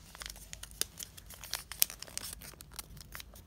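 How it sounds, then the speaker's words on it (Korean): Sheet of origami paper being folded in half, giving a run of quiet crisp crinkles and creasing rustles, close and soft, with no voices. "이렇게 잡은 상태로 반을 접어주세요"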